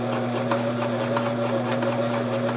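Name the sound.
Sears Kenmore sewing machine sewing a stretch stitch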